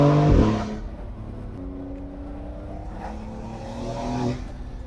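A 2024 Porsche 911 S Cabriolet with its sport exhaust closed gives a brief throttle blip, then settles into a steady engine drone that rises again as it accelerates, fairly loud and close, with no talking.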